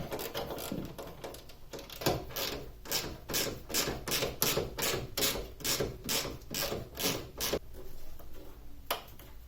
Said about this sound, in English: these two bolts are 12 millimeters, so I think we just need to loosen them